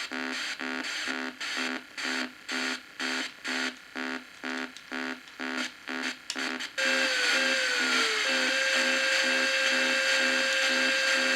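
Vectrex video game drilling effect, a rapid series of buzzy electronic pulses for about seven seconds, then a steady loud synthetic drone with a falling tone sweep.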